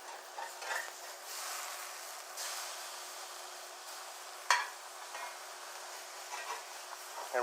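Smash burger patty for an Oklahoma-style onion cheeseburger sizzling steadily on a flat griddle after the flip, a constant near frying hiss with a sharp scrape or clink partway through, no talking.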